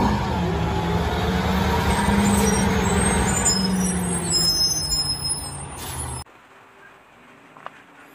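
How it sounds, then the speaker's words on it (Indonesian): A toy garbage truck gives off a steady loud mechanical rumble with hissing tones like an air brake, running for about six seconds before cutting off abruptly into near quiet with a faint click. "Ini truk sampah."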